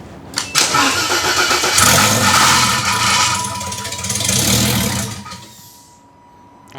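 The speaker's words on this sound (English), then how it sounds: "that's the flex plate making noise" A car engine runs loud and close with a rattling flex plate, roaring through a few swells before dying away to near quiet at the end.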